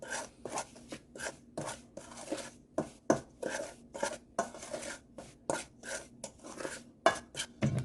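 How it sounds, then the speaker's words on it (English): Chicken wings are stirred through buttermilk in a bowl, a run of wet clacks and scrapes of utensil against the bowl in quick irregular bursts, close and fairly quiet, with no talking. "we just go ahead and get this stirred in together"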